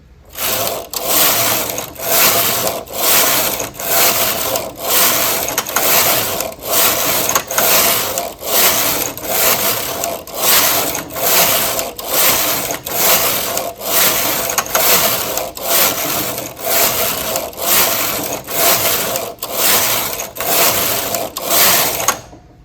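A domestic knitting machine works a Fair Isle pattern over elastic and base yarn, its carriage sliding back and forth in a steady rhythmic series of loud, close rasping sweeps, each pass swelling and fading with no talk.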